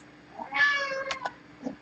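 A cat gives a single close, clear meow lasting about half a second, followed by a couple of faint clicks in a quiet room.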